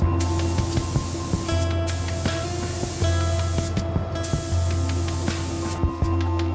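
Breathable top coat sprayed onto a finished piece on a factory floor, a steady hissing spray in three long passes with brief pauses between. Constant machine hum and scattered clicks from the production line run underneath.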